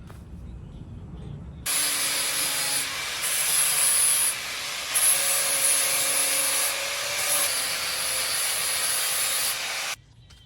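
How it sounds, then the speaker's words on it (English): An angle grinder fitted with a flap disc grinds a car body during a Beetle-to-BMW body swap, a loud harsh continuous abrasive roar lasting about eight seconds with brief dips as the disc lifts and returns. "a cutting disc on an angle grinder is better because it just has that fine point that you can just work these edges with"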